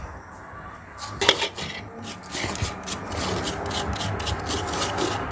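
Food scraped or grated by hand in a rural home kitchen, a rough rubbing rasp repeating in short strokes at close range, with faint clinks like a utensil or pot and no talking.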